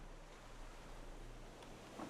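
Steady ocean waves and wind wash continuously on the open sea in the survival game Raft, a smooth, even roar with no voices.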